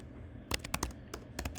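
Code typed on a computer keyboard: a quick burst of close, crisp key clicks in uneven clusters over a low hum, with no speech.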